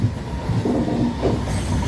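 Loud, continuous rumble of a Konkan Railway passenger train departing on the Diva–Ratnagiri route, rolling along the tracks with faint wheel clatter and no voices.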